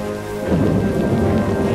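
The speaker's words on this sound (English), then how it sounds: "caught in a downpour" A thunderstorm downpour in a South American village brings a heavy rush of rain and a low rumble of thunder that swells after a brief, quieter start.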